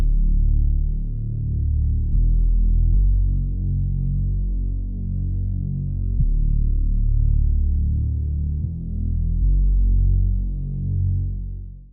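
A music sample with an added layered bass plays in a producer's beat, a thick, loud low-end drone and throbbing bass line sustained steadily throughout with no voices.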